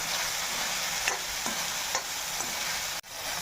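Kantola vegetable fries in oil while being stirred, with a soft, steady sizzle and faint occasional spoon scrapes plus a brief knock near the end, no talking.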